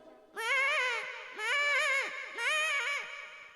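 A man mimics a young goat's bleat with three drawn-out, quavering cries, each about half a second to a second long with short gaps between them. The calls are loud, close and performed alone.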